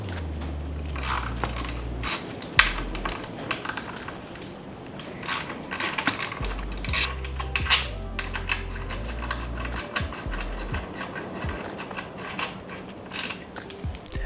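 Metal tools work on a Honda CRF300L's front axle pinch bolts (10mm): a busy run of close ratchet clicks, taps and mechanical rattles with no talking.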